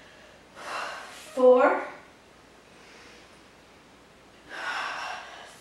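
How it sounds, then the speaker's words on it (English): Sharp, forceful exhales during a core workout, a few separate breaths close to the mic, with a coach counting between them. "Big exhales."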